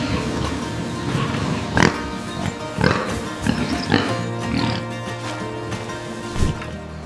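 Pigs in a barn grunting and oinking in scattered bursts, several loud close squeals and snorts over a steady background hum of the building.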